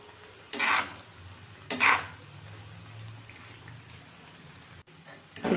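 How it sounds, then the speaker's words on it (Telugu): Bread pieces frying in a pan for double ka meetha, a steady soft sizzle throughout, broken by two bursts of louder stirring or scraping and a brief clatter near the end. "రెండోసారి కూడా మిగిలిన బ్రెడ్ ముక్కలు ఉంటాయి కదండి, వాటిని కూడా అలాగే మంచిగా వేయించుకోవాలండి."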